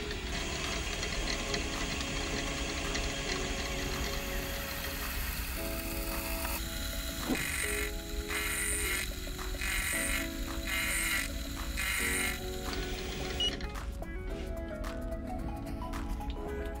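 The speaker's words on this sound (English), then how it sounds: "use the edge cutting ability of an end mill in combination with the rotating workpiece" An end mill cutting a rotating workpiece held on a Sherline rotary table, making a watchmaker's faceplate for a Sherline lathe, gives a steady grinding machine drone. Rhythmic chattering pulses join about midway, with sharp ticks near the end.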